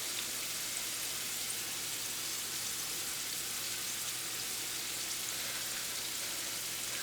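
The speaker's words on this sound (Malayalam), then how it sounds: "ജസ്റ്റ് ഗോൾഡൻ ബ്രൗൺ ആവുന്നത് വരെ നമുക്ക് ഫ്രൈ ചെയ്തെടുക്കാം." Okra pieces frying in hot oil until golden brown, giving a steady, even sizzle with fine crackling throughout and no voices.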